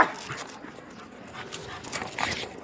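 A sheriff's K-9 police dog pants close by in quick, rough breaths with slight whimpering, over an outdoor background.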